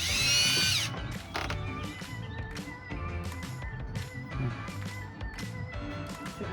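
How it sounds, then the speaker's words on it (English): A power drill boring out fittings on a 37-year-old Hallberg Rassy 352 sailboat, opening with a high whining spin, then a series of short grinding bursts and ratcheting catches, close and fairly quiet. "I'm going to start by drilling those two out"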